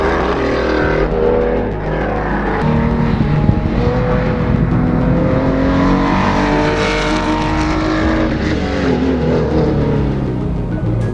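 A 1985 Porsche Carrera sports car engine runs loud and steady, its harmonics rising and falling as the revs change, with no voices over it.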